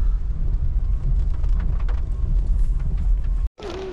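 A rainstorm lashes a seaside beach resort: dense, steady roaring wash of rain and wind with a low rumble, loud and continuous, cutting out abruptly just before the end.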